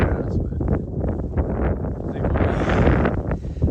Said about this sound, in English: but it's just windy today